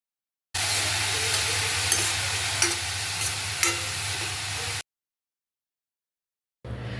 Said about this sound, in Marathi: कांदा तेलावर चांगला परतून घ्यायचा आहे।